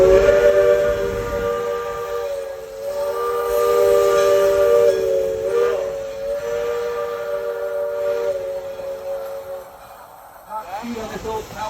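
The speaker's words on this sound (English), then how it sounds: "It is a very powerful, gear-driven, all-wheel drive steam locomotive." A Shay gear-driven, all-wheel-drive steam locomotive on a Santa Cruz excursion line sounds a long, loud, sustained whistle. Low rumbling running noise continues beneath it.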